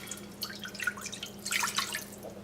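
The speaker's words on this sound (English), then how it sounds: "now I'm going to take my beef broth and I'm just going to add it just like this" Beef broth poured into a saucepan gives a brief run of close, irregular splashing and trickling liquid over a low steady hum, alone with no talk.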